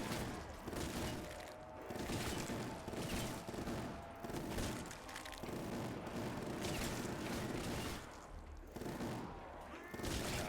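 Death Machine minigun in Black Ops 3 Zombies (Der Eisendrache) firing in long continuous bursts, a dense loud rattling roar broken by brief pauses, with explosive booms mixed in.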